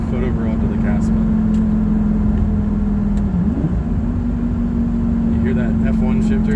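Inside a Lamborghini, a steady engine drone holds at one pitch, dips briefly in a quick F1-style gear shift, then settles again, loud and close with road rumble beneath.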